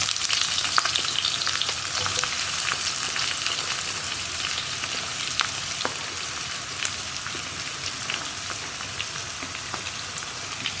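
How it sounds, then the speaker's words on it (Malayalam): Onions sauté in a pan for green peas curry, with garlic, ginger and green chilli, giving a steady close sizzle and frying crackle with scattered small pops and occasional stirring scrapes throughout, no voices. "ഇതൊന്ന് നന്നായിട്ട് നമുക്കിനി വഴറ്റിയെടുക്കാം"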